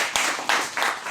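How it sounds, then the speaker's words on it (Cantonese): Applause and clapping from a church congregation welcoming volunteers forward during a Sunday sermon, three short swells of hand claps over a brief moment. "掌聲鼓勵"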